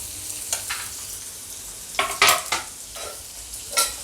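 Two finely chopped onions frying in hot oil in a pan, a soft steady sizzle with a few scraping stirs of a spoon, close and clear, no voices.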